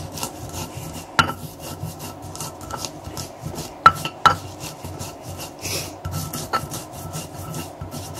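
Peanuts being ground by hand in a stone mortar for a vegetable rujak dressing, heard as close rhythmic scraping and rubbing strokes with occasional sharper knocks of stone on stone, steady and moderately quiet.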